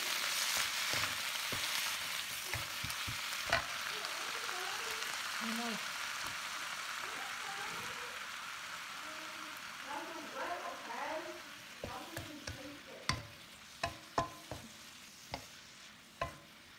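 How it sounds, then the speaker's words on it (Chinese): Ham sizzles and fries in a pan while a spatula stirs and scrapes it, producing a steady close hiss with sharp clicks of utensil against pan toward the end, and a person talks over the cooking. "火腿先炒一下，先炒一下，火腿香味道"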